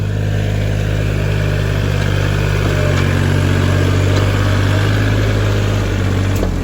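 Farm tractor engine grinding steadily through sticky rain-soaked mud, a loud, continuous low rumble held at a constant load throughout, close by and with no talk over it.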